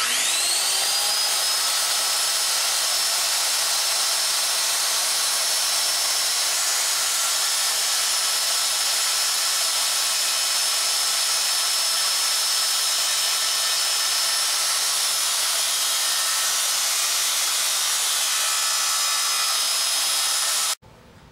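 Wood being sawn by hand to make wooden dummy arms, a steady continuous rasping close by that runs without pause for about twenty seconds and then stops abruptly, with no talking.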